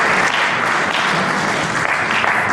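Dense, steady applause from a ceremony audience at a pension members' association gathering, filling the room continuously without a break.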